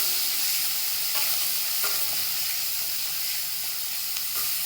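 Chopped onion sautéing in oil in a pan for aloo methi, giving a steady, fairly loud sizzle with a few soft stirring clicks and no voices.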